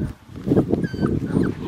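A puppy, a black tri male, gives soft, high, brief whimpers close by, with low, muffled handling and rustling underneath.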